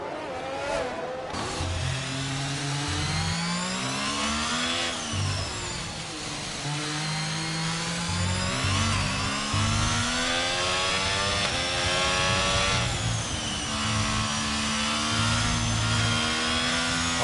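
Several Formula-style cars race nose to tail in a sim racing league Grand Prix at Mexico, high-revving engines whining and overlapping as they shift through gears, continuous and loud throughout.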